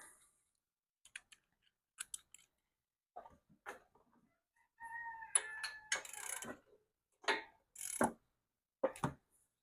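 Spark plugs being pulled from a small engine during a valve lash adjustment: scattered metallic clicks and ratcheting bursts, close and fairly quiet, with brief pauses between spurts of wrench work.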